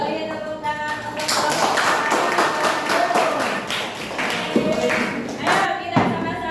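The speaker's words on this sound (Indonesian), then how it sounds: "Beri tepuk tangan untuk" A junior high science class claps together for a few seconds, a close, busy patter of many hands in a classroom with voices mixed in.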